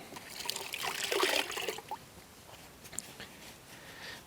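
Water trickles and splashes softly as a car wash mitt is rinsed in a bucket while a Citroen C5 is cleaned, a brief dribbling burst fading to quiet drips.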